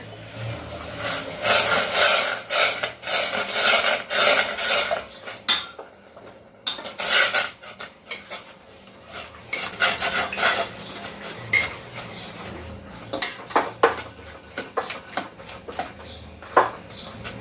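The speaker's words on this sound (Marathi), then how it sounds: "पुन्हा एकदा छान ढवळून आपण हा चीक त्यामध्ये ओतत राहायचं" A spoon scrapes and knocks around a metal pot while wheat starch paste for kurdai is stirred into boiling water, giving busy close clattering strokes with short pauses.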